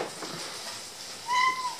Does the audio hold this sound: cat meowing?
yes